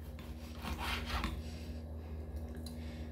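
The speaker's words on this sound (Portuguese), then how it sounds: "Aqui, ó. Tô cortando o filé mignon." A knife slices through filet mignon in a home kitchen with soft, rubbing sawing strokes, strongest in one burst near the start, over a steady low background hum.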